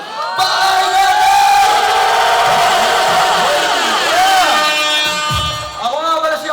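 A rap battle crowd at Katayan sa Hamogan roars, cheers and shouts loudly and continuously, and a voice yells over the sustained noise.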